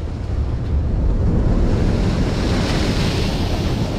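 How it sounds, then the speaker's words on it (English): Ocean waves breaking against wet jetty rocks, a loud continuous roar of churning surf with heavy wind buffeting the microphone, close by and steady with no voices. "We're almost past these breaking waves."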